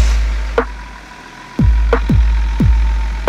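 BMW 330d diesel engine running after a swap from an automatic to a six-speed manual gearbox, idling low and steady with a few blips and sharp knocks, close and loud.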